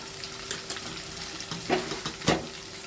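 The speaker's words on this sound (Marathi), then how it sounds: "अशा पद्धतीने ते छान परतून घ्यायचं आहे कोथिंबीर" Chopped coriander sautéing in a pan for a spicy masoor dal, a soft steady sizzle with a few clinks and stirring scrapes, heard alone with no talk.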